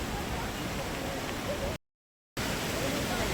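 Rautwadi waterfall near Radhanagari, Kolhapur, heard as a steady, dense roar of falling water, broken by a brief gap of silence.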